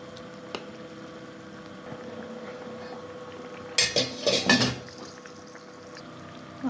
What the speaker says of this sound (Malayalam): കറി തിളച്ച് അതിനകത്തോട്ട് മീനിട്ട് കൊടുക്കുക.